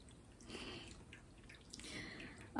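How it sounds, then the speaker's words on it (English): Small indoor water fountain running in the corner of a room, a faint, continuous trickle with soft drips and splashes in the background. "if you hear a background noise, that's my fountain in the corner"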